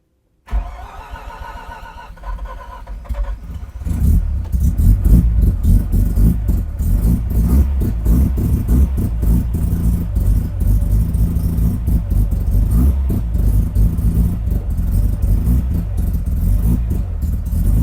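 A rotary-engine Mazda Miata cranks briefly, catches and settles into a loud, buzzy, choppy idle, then holds a steady, raspy high-rev drone close to the microphone while launch control is tested.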